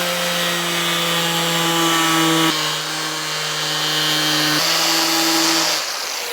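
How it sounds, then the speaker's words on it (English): A cutoff wheel grinds through the front bumper of a 3rd-gen Toyota Tacoma along a tape line, making a loud, steady high-pitched whine whose pitch dips slightly as the load changes, with no talking. "you're ready to take a cutoff wheel and follow your line across"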